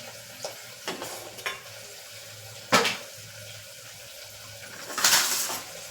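Masala khichdi cooking in a pan for a Kathiawadi dhaba-style dish gives a steady low sizzle, with a few sharp scraping stirs and a louder burst of frying near the end, no talk.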